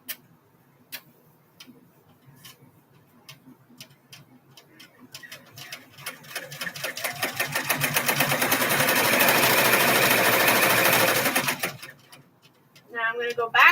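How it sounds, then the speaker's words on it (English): Sewing machine running a tack down stitch on fabric bags: scattered ticks at first, then a steady loud rapid whirring run that stops abruptly, with a voice afterward. "This is the tack down stitch. I'm going to do it one more time."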